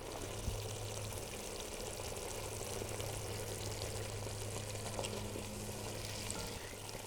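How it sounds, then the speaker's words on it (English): Strained tomato puree goes into a hot pan for ragu sauce, giving a dense, steady sizzle and bubbling hiss at low, even loudness with no voices. "And I'm going to add the puree, the strained tomatoes."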